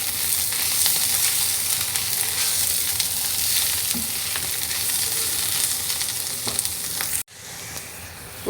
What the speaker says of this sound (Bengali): উস্তেটা এখনও ভাজি হচ্ছে।